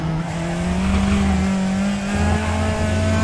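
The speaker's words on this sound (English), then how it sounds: "I'm like just on the rev limiter as if in my braking zone for the chicane" A Praga R1 race car in RaceRoom bounces off its rev limiter at Donington National while braking for the chicane, a loud, close, buzzing engine note held steady with a brief dip partway through.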